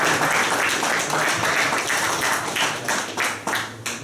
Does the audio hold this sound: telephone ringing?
no